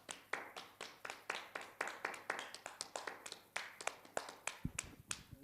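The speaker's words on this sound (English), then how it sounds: "give us a round of applause for our greatly done job all these 3 years" Online festival audience clapping in a steady run of sharp, close claps at a brisk, fairly even rhythm, a small group rather than a large crowd.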